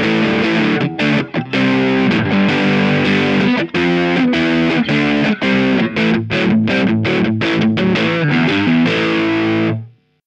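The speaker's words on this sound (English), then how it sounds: "Let's see how it sounds with a little bit of distortion." Electric guitar with Lace Sensor Gold HSS pickups played through distortion, a continuous stream of thick, saturated chords with short choppy breaks, ringing out loud and up close before cutting off at the end.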